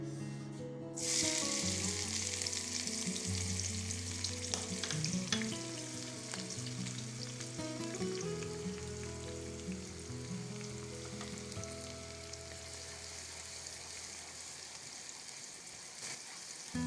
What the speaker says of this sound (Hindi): सबसे पहले ऑयल मैंने प्रीहीट कर लिया है, इसमें मैं डाल दूँगी ये अनियंस।